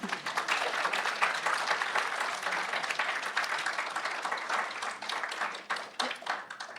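An audience claps at the end of a nanoscience lab presentation on biotoxicity, a steady, dense burst of applause that holds for several seconds and slowly thins out toward the end.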